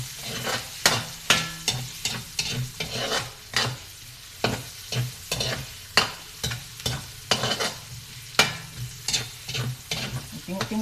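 Homemade fried rice being stirred in a frying pan over low heat, a spatula scraping and tossing in steady repeated strokes about once a second over a soft, continuous sizzle, close up with no talking.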